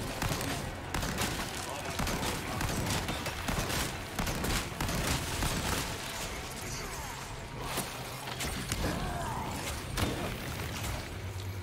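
Rapid bursts of gunfire crackle through a tense firefight in the Resident Evil 4 Remake, played on Hardcore, with crashes and mechanical clatter mixed in under a steady game backdrop.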